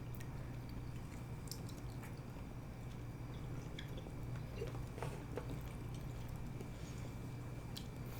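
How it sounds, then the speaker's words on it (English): Sushi being chewed close to the mic, with soft wet squishes and small clicks scattered over a steady, loud low background hum, no talking. "You can hear me chewing it."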